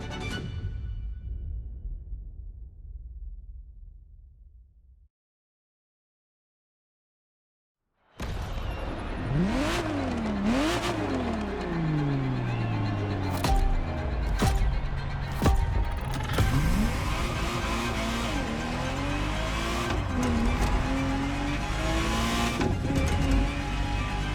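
Ferrari Testarossa engine in The Crew Motorfest racing game: a brief engine fade, a few seconds of silence, then loud continuous revving with rising and falling gear sweeps and tire squeal, close and alone.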